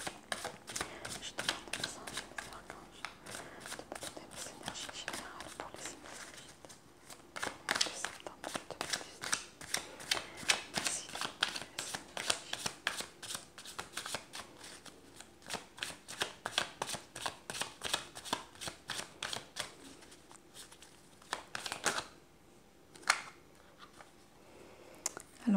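Oracle cards shuffled by hand in a quiet indoor setting, a long run of soft, rapid riffling and flicking that stays fairly faint throughout with only a few brief pauses.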